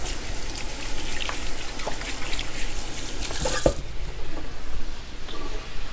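A kitchen tap runs steadily while hands are washed during bowl preparation, a continuous close splashing hiss with small drips and clatters throughout, no voices.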